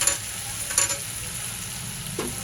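Spices with red chilli powder and turmeric sauté with onion in a pan, giving a steady sizzle with a few scraping stirs of a spoon, close and alone with no voices.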